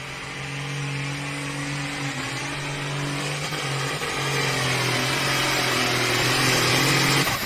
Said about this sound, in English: The Running Lake tractor, John Deere, going to get us rolling here tonight, will be our test puller here with this John Deere 4020